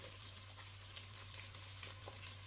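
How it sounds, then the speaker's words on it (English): Fish fries in a pan beside carrots with a steady, soft crackling sizzle and a low background hum, continuous and even throughout, with no talking. "I'll remove this and then I'll turn the other ones and let them fry on the both sides"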